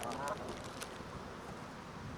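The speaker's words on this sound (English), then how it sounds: "here come the seagulls and honking geese" Geese honking during bird feeding alongside seagulls, a few brief faint calls early on, set against steady outdoor background noise.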